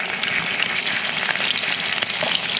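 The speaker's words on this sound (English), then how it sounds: "See, that's what cooking sounds like." Food sizzles and fries in a pan set on a Jetboil stove with a pan adapter, a steady, close crackling hiss that runs unbroken and alone.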